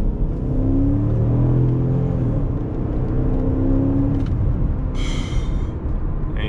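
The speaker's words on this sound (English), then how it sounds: "All right, got a little acceleration run." A 2006 Chrysler 300C with a Hemi V8 pulls hard under acceleration, a steady low engine drone and rising harmonics filling the whole stretch, with road rumble beneath and a brief higher whine near the end.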